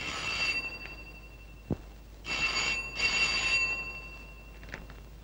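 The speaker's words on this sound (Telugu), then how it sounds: "ఫోన్ ఎత్తు." An old-style telephone bell rings in short repeated bursts inside a house in a Telugu film comedy scene, with a brief click between rings and faint background hum.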